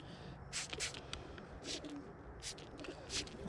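Faint Birmingham Roller pigeon cooing and soft fluttering bursts in a quiet space, coming in a few short scattered spurts.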